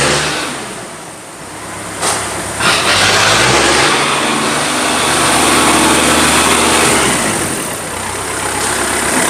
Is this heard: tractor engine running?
yes